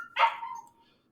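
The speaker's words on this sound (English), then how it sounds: "That noise you hear is the dog in the background." A dog gives a single short bark from somewhere in the background of an otherwise quiet room, the sound fading quickly after the burst.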